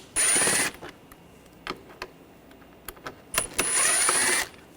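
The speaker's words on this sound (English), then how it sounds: "Remove these 2 screws." A Phillips screwdriver backs screws out of a 2004-2009 Audi A4 during a timing belt and water pump job. Two long, bright ratcheting bursts bracket a run of scattered clicks and taps, close and without speech.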